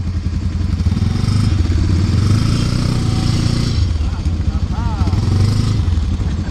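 A Honda FourTrax ATV on a trail, its engine droning loud and close in a steady rough putter that lifts and dips slightly as it starts to pull away, with voices talking over it.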